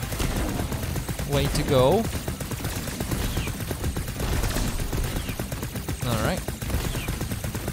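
Rapid machine-gun fire in the flying shooter The Knight Witch, a continuous stream of crackling shots mixed with game effects, with someone talking over it now and then.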